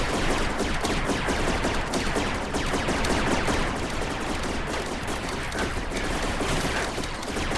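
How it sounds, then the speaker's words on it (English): Rec Room match erupts in dense, continuous gunfire and grenade blasts, rapid overlapping shots crackling loud and close without a pause. "Early grenades flying off."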